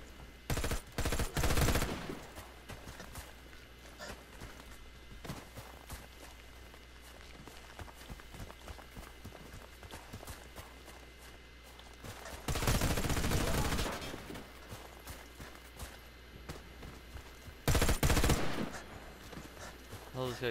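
Bursts of automatic video-game gunfire rattle out in rapid volleys, loudest at the start and in two later heavy stretches, with scattered single shots and footsteps between and a voice talking over the action.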